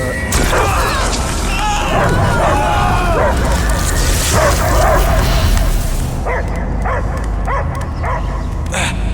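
Dog barking and yipping amid busy game sounds and music in Marvel's Guardians of the Galaxy, with voices talking over it, followed by a few sharp barks near the end.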